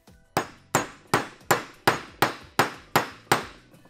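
Nine steady, evenly spaced hammer blows ring out close and crisp as a socket drives a bearing to the bottom of a dirt bike wheel hub, each strike a bright metallic knock fading quickly.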